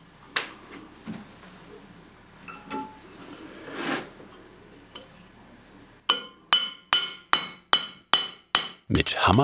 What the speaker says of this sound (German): Hämmern von beiden Seiten.